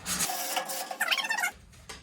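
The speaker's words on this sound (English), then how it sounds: "So this is the only area I'm going to sand." Short, close scraping strokes of sandpaper rubbing against wood, a few quick rasping passes at moderate loudness.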